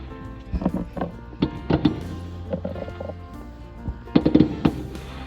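Fireworks from a Halloween celebration nearby go off in scattered pops and bursts, some in quick clusters, heard at a moderate distance with a low background hum.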